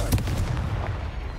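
A Confringo blast spell fired in the video game Hogwarts Legacy during a fight with a big spider: a loud, booming burst that hits hard at the start and then rumbles on in a dense, sustained roar.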